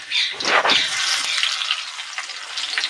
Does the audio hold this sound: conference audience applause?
no